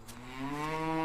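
A dairy cow in a village barn gives a single close, drawn-out moo that rises in pitch and swells in loudness over about a second.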